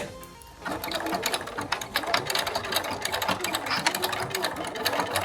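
A sewing machine runs steadily, top stitching along the edge of a fabric mask with a continuous rapid mechanical whir and needle clatter after a brief quiet start.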